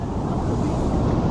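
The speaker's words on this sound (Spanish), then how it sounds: "se están levantando bien fuertes las olas" Strong ocean waves breaking on a beach at Pedernales make a continuous, fairly loud roar of surf mixed with wind buffeting, heard briefly without talk.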